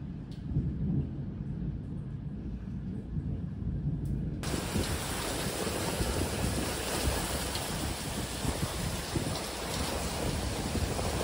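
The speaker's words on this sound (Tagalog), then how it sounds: "Ang lakas ng ulan." Heavy rain pouring during a storm in Dubai, a dense constant roar of water that swells suddenly louder a few seconds in and stays intense with no voices.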